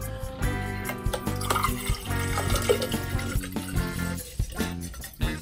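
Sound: water from a bottle poured into a plastic container

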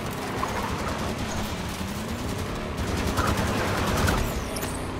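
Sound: gunfire hitting the player in the video game Halo 5: Guardians

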